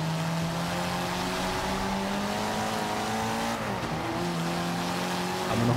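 Race cars from the Forza Motorsport 5 video game roar past in a continuous engine drone, pitch rising and shifting as gears change, with a brief tire squeal midway.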